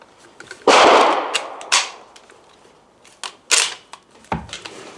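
Several gunshots from a .308 Win rifle firing German plastic training ammunition, measured about four meters from the muzzle: sharp, loud cracks at irregular intervals, with one big report early and smaller ones following, each decaying quickly.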